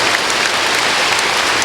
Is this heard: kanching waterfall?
no